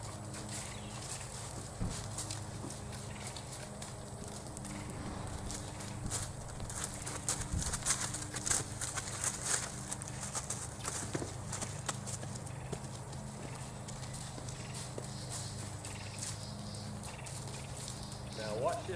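A horse walks around an outdoor work area, its hooves clip-clopping in an uneven rhythm at moderate distance while someone talks over it.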